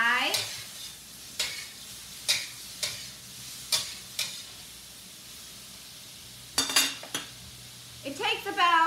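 Shrimp cooking over medium-high heat in a pan for a shrimp and egg drop gravy dish, with a steady sizzle and repeated scraping, stirring strokes of a utensil against the pan, clattering close and loud.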